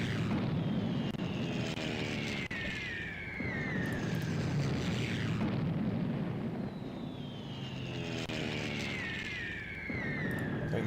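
Aircraft in a Civilization II attack rush and roar through the game audio, two long swooping engine passes with falling pitch, loud and dense, alone with no talk.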